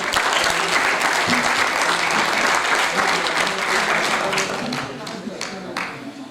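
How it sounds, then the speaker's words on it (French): An audience applauds loudly to welcome a speaker named Louisa onto the stage. The dense clapping holds steady before thinning toward the end. "j'aimerais que nous acclamons très fort pour recevoir ici Louisa"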